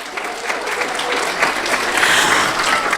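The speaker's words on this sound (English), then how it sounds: "Would you please give yourselves a nice round of applause?" An audience at a school district's monthly Superintendent Citation program applauds steadily, a dense wash of clapping that swells slightly toward the end, with no talk over it.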